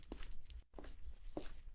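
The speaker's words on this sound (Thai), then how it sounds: "มีเสียงเดิน" A few soft video game footsteps, three or four quiet thuds spaced evenly, faint against a low background hum.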